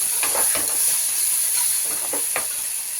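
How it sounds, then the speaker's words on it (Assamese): Tomatoes fry in a pan beside eggs, giving a steady hiss and sizzle with a few soft stirring knocks, fairly loud and continuous, with no talking. "আমাৰ এয়া বিলাহীখিনি ফ্ৰাই কৰি আছে"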